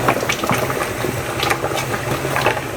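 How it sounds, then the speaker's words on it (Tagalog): Pork caldereta with green peas simmering and being stirred in a pot, a steady bubbling, sizzling wash with light scraping clinks, close and continuous without talk. "huwag kalimutan ng paghalo"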